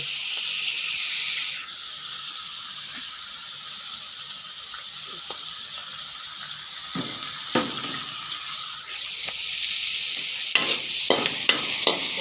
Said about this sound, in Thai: ผัดบอบโคลี แล้วก็เด้อ